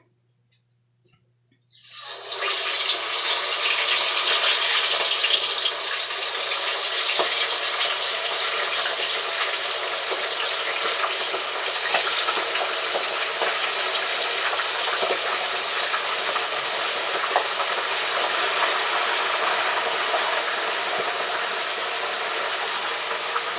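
Pieces of raw chicken dropped into hot grease, starting with a loud burst of sizzling and then a steady, dense frying hiss that carries on close and unbroken.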